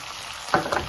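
Chopped large onion fries in a pan with shallots and green chillies, making a faint, steady sizzle close by, with a brief stirring scrape near the end.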